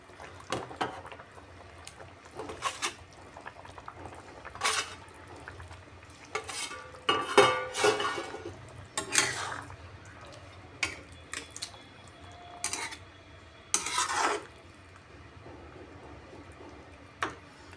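Fried rohu fish going into a simmering potato curry with beet greens, heard as a string of irregular spoon clinks, scrapes and soft splashes against the pot over a faint bubbling background.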